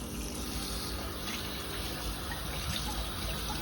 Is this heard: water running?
yes